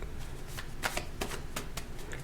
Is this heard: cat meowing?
no